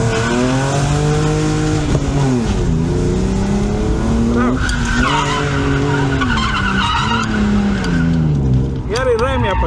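A car sliding sideways during drift training at a track, with sustained loud tire squeal and a straining, revving engine close by throughout.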